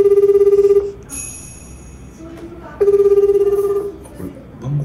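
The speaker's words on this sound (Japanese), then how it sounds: "あ、今カンタ先に電話してる" An outgoing phone call plays a loud, close ringback tone: two long pulsed rings about two seconds apart, with only faint background noise in the gap.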